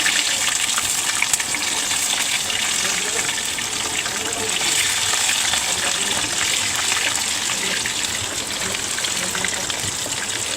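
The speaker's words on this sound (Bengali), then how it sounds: "দর্শক, তেল গরম হয়ে গেছে, আমি এখন আলুটা ভেজে নিব।" Potatoes frying in hot oil, a steady dense hiss and crackle of sizzling that carries on evenly throughout without pause.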